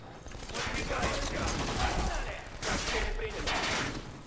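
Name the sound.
enemy firing a big gun in video game Black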